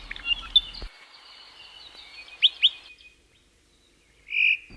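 Oma'o bird singing, a few thin high chirps and whistled notes in a quiet setting, with a brief buzzy trill near the end.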